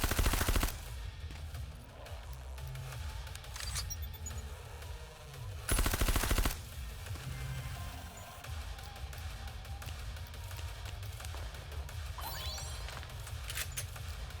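Automatic gunfire dumping a full magazine in the video game Reverse Collapse, loud rapid bursts of shots that repeat over a continuous game background.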